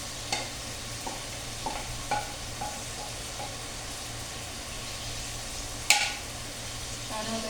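Alamang shrimp paste sautéing in a pan, a soft steady sizzle under a low background hum, broken by a few light spatula taps and scrapes, one sharper clatter near the end.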